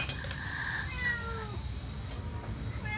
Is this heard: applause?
no